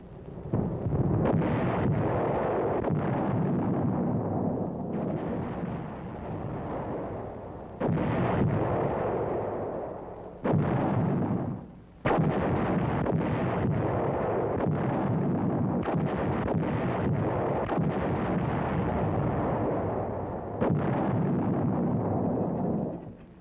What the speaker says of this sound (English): there was the exchange of shells of varying sizes, weights, and types, fired out from and into the battered beachhead